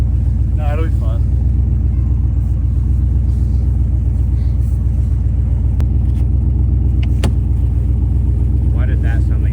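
A Honda Civic's engine rumbles loud and steady while drifting in a snowy blizzard, a continuous low drone with a couple of sharp knocks partway through and brief voices over it.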